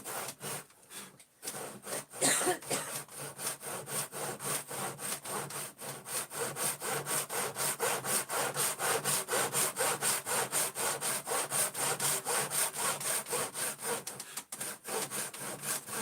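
Hand saw cutting through wood in steady, rapid back-and-forth strokes, close and loud, carrying on almost without a break across the whole stretch with only a brief pause near the start.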